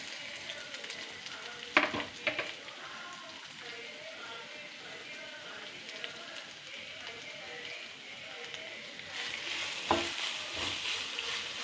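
Finely chopped ginger fries in a pan for inji puli, a soft steady sizzle with occasional clinks of a spoon stirring, fairly quiet throughout.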